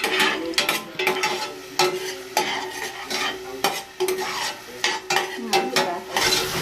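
Onion and garlic sautéing in a pan, a utensil scraping and clattering in quick irregular strokes over a light sizzle, near and fairly loud, with no speech.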